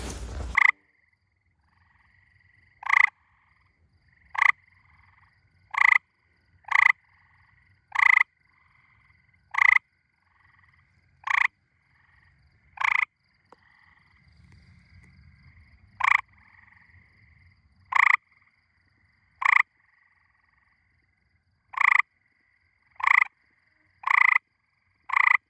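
Eastern gray tree frogs give about sixteen loud, evenly spaced trilling croaks close by, each call short and separated by quiet gaps, with faint low background noise between them.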